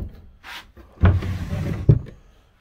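A storage drawer or cabinet in a work trailer that holds paint and caulk supplies, sliding and then shutting with two solid, close knocks and no talk.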